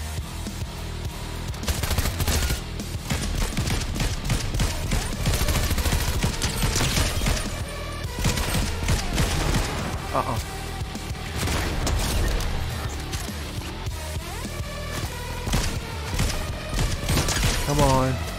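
Gunfire from a gun in Fortnite: rapid bursts and single shots crack repeatedly over busy game noise, with a few heavier booms mixed in.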